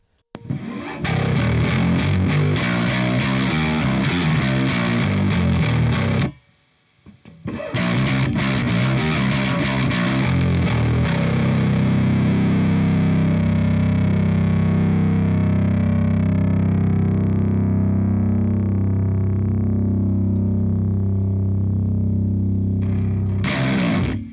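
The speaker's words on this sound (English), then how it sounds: "can probably put a load of distortion on that" A bass guitar run through a Latvian Simple Way active DI box with heavy distortion plays loud and sustained, with a gritty, fuzzy tone. There is one brief gap near the start, then long held notes ring out and fade into hiss.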